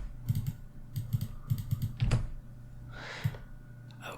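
Computer keyboard typing while coding a gift exchange app in Java: several short bursts of quick keystrokes, close and crisp, with a louder key clack near the middle and a soft rustle later, no voices.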